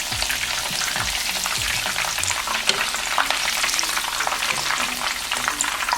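Onions frying in a pan for chilaquiles, giving a steady, dense sizzle that runs loud and close throughout, with occasional soft stirring movements.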